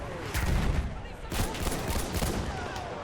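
Battlefield 1 battle noise: scattered rifle and machine-gun fire with dull explosions, a dense distant fusillade of irregular cracks and thuds, moderately quiet throughout.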